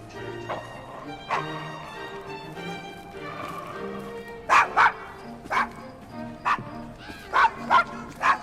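A dog in Assassin's Creed Syndicate barks in a run of sharp, close yaps and bow-wows, about eight bursts spaced unevenly across the second half, with game voices and ambience underneath.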